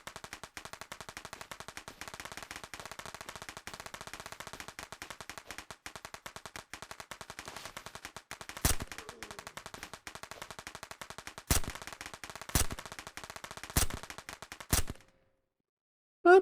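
A noise maker grenade in the zombie shooter Surroundead loosing long, dense bursts of machine-gun-like gunfire, with several louder sharp shots near the end before it cuts to silence.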